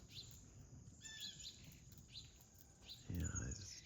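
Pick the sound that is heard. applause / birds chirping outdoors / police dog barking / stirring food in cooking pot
birds chirping outdoors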